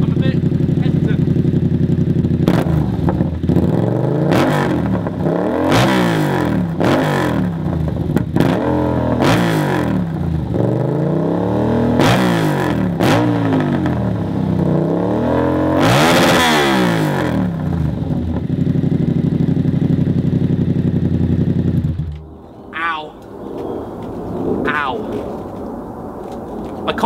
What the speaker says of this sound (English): hopefully that's given you a good idea as to what an SC Project CRT full system sounds like with no baffle